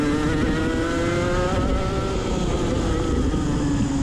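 Go-kart engine racing in a round 6 final at Pallas Karting, a loud, steady drone with a continuous revving whine held close and unbroken throughout.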